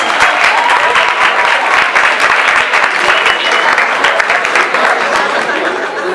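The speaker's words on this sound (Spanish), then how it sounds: "Bueno, un aplauso." A lively audience at a talk on genetically modified foods bursts into loud, sustained applause, dense rapid clapping from many hands close by, with faint chuckles and chatter mixed under it.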